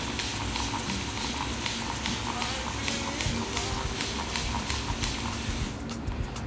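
Spray bottle misting water onto hair during a wash-and-go styling routine, a rapid series of short hissing bursts repeating steadily and close, with soft rustling in the background.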